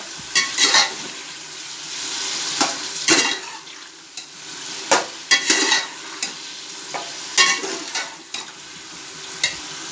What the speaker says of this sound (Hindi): बीफ को हम अच्छी तरह भून लेंगे